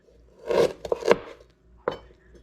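A knife chops ginger root on a cutting board for kimchi, giving a few quick, close, crisp chopping strikes separated by short pauses in a quiet kitchen.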